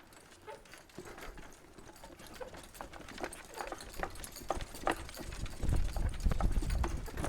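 A horse's hooves clip-clop in a steady rhythm as she pulls a cart during a driving session, close and moderately loud, growing heavier and denser toward the end as her pace surges.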